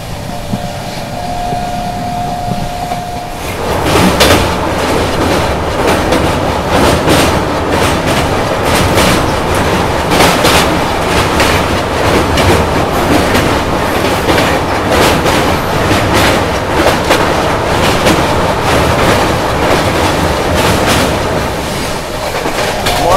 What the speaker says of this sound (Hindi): अपनी राजधानी एक्सप्रेस भी फॉर्म में आ चुकी है